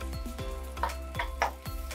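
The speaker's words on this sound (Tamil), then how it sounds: "ஆயில் சூடாயிடுச்சு. இப்போ ஒரே ஒரு ஆனியனை வந்து கட் பண்ணி வச்சுருக்கேன், அதை நம்ம சேர்க்கலாம்." Chopped onion frying in hot oil for a roadside-style mushroom masala, with steady sizzle under repeated stirring scrapes and soft clinks of a utensil against the pan.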